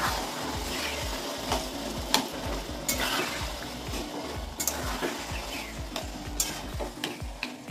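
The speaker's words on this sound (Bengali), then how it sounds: "এবার কচুর শাকটা আমি ছোলা মশলা এর সঙ্গে কষাবো।" Taro leaves sautéed with chickpea masala in oil in a pan, Bengali style, give a steady sizzle under repeated scraping stirs of a spatula, close and fairly loud throughout, with no talking.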